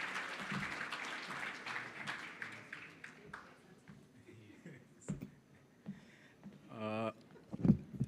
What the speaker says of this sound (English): another round of applause for our Mayor Nomawetu.